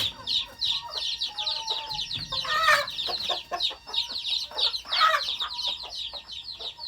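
A flock of laying hens clucks busily and continuously nearby in a garden, with a couple of louder, drawn-out calls rising above the chatter.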